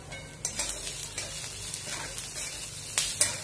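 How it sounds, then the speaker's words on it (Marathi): Garlic lightly roasting in a dry pan after coconut, heard as a quiet steady sizzle with a few soft scraping stirs and clicks, with no one talking. "थोडासा हलका लसूण पण आपण जरा भाजून घेऊया"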